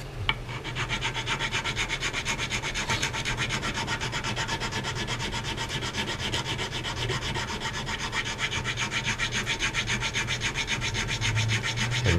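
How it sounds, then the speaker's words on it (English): Steady rhythmic sanding strokes rub across the body of an L Series Fender Mustang guitar, close and continuous with no talking. "I'm going to sand it some."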